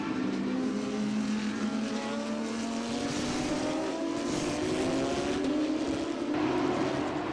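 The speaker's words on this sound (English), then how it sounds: "51 cars take the green flag for feature race 1 here at Daytona, as David Tuati gets a great jump on James S" A field of 51 GT race cars roars away from the green flag at Daytona for a feature race, a dense, continuous engine drone that climbs steadily in pitch as the pack accelerates.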